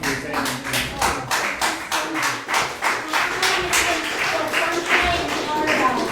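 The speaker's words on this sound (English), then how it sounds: "Can we give a round of applause to Andres?" An audience at a music school piano workshop applauds a pianist: a few people clap in a fairly even rhythm, close and distinct, with a brief voice over it.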